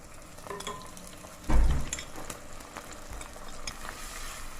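Minced fish fries in a pan with ginger-garlic paste, a soft continuous sizzle broken by a loud scrape and clatter of a spoon stirring midway, then quieter stirring knocks.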